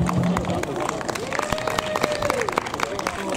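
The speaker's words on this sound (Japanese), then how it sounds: "皆さん盛大な拍手でお迎えください" An audience at the Obama Onsen hot-spring festival gives dense, sustained applause, many hands clapping at once with a faint voice or tone carrying underneath.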